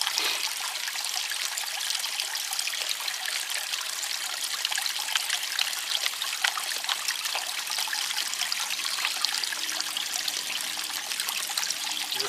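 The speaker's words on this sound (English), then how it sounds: "I'm just washing the lighter stuff off right now." Water sloshing and trickling through a gold pan of stream gravel while prospecting for gold in North Carolina, with a steady close-up wash and dribble running throughout and no voices.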